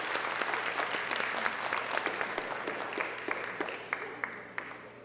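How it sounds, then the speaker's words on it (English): Audience applause at an early care and education apprenticeship recognition night, steady clapping from a mid-sized crowd with individual sharp claps standing out, moderately quiet and continuing for several seconds. "Oh, sorry, we could clap? Go ahead."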